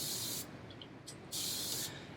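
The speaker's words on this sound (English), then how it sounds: "So I'm going to wet it a little bit with this mister I just got on Amazon" A continuous-spray hair mister bottle sprays water onto hair in two close, bright hissing bursts separated by a short pause, with faint clicks of the trigger between them.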